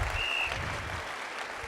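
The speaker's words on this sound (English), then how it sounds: "How about a round of applause for Tucker Carlson for being here and doing this" Crowd at a political conference event clapping, a brief, fairly faint patter of applause that continues evenly with little else audible.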